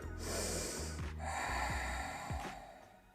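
Two deep, audible inhales during a yoga hip-stretching session, each a long airy draw of breath close to the microphone, separated by a short pause.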